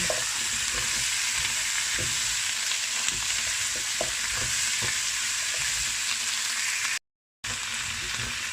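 Beef brisket and tomato fry in a pan with a loud, continuous sizzle while a spatula stirs, adding small scraping clicks throughout; the sound cuts out briefly near the end.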